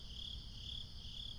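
Crickets chirping at night, a faint, steady high trill swelling in slow regular pulses over a low background hum.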